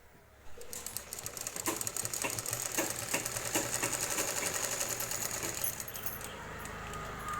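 A sewing machine stitches lining fabric onto a kurti in one steady, close run of rapid mechanical clatter that starts abruptly, holds for several seconds and then stops, with no talking.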